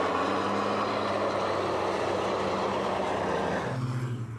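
A racing truck engine powers uphill on a wet track during 2021 qualifying, a loud, steady, droning roar that holds constant before easing and dropping in pitch near the end, with no talk.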